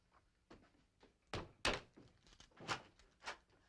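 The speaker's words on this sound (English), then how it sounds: "Who the dickens is that? Get the front door, will you, Dennis?" A series of dull thuds strikes the front door of a house in a sitcom setting, about eight uneven knocks, a few of them louder and sharper than the others.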